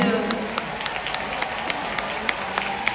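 Applause from a concert audience at a Hong Kong pop show for the guest singer, a steady clapping wash with sharp claps cutting through, while a faint voice lingers underneath.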